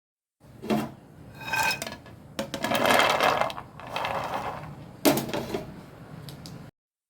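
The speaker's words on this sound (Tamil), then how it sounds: "இப்போ இதை உடனே ஒரு பாத்திரத்தில் கொட்டி வச்சிடலாங்க" Roasted cardamom and almonds poured from a hot pan into a metal vessel, giving a series of clattering, rattling bursts of hard pieces and scraping utensil contact, loud and close, with short pauses between pours.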